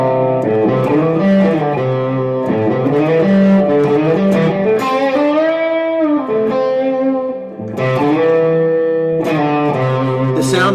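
An overdriven electric guitar plays bluesy minor pentatonic phrases with pitch slides gliding between notes, loud and sustained with rich distortion.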